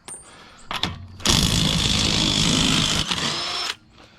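A Ryobi battery-powered impact drill removes bolts by the roadside. After a couple of brief taps, it gives one loud, close whirring burst lasting about two and a half seconds, then stops.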